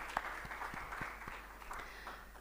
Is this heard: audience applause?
yes